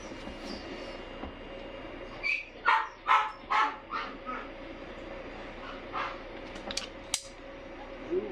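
Dogs whimper and yelp in a run of short, high, squeaky cries, clustered in a quick burst and then a few more scattered ones, fairly close over a quiet background hum.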